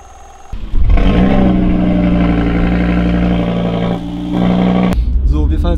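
A car starting to drive after a brief pause, its engine rising into a loud steady hum from inside the cabin, with a short dip and a clunk before it carries on, voices faint over it.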